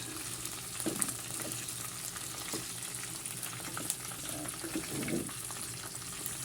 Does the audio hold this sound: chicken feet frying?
yes